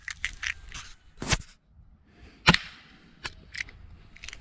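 Sharp, dry cracks of a 5.5 mm air rifle firing Gamo Red Fire pellets at a target, a couple of distinct loud shots among smaller clicks and handling noises, close and otherwise quiet.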